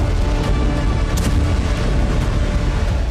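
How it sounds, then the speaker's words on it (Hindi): Explosions along a gas pipeline in Russia at midnight give a loud, continuous booming rumble throughout, with one sharper burst partway through. "एक बार फिर गैस पाइपलाइन में धमाके हुए।"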